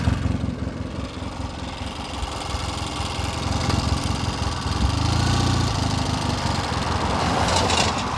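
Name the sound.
1972 Triumph 650 motorcycle engine idling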